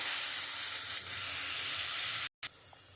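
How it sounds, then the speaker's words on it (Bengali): Minced mutton fries in hot oil with a steady bright sizzle and hiss, close and continuous, broken by a brief silent gap near the end. "যেহেতু এটা খাসির মাংসর কিমা, তাই এটা একটু সময় ধরেই আমাকে কষাতে হবে।"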